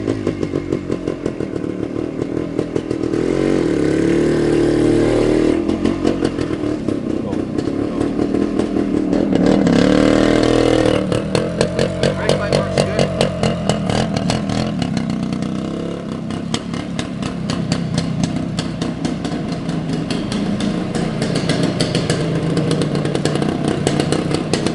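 A 1973 Suzuki TS250K two-stroke motorcycle engine running indoors, loud and close throughout with a sustained rapid pulsing buzz that rises in revs around the middle before settling back to a rattling idle.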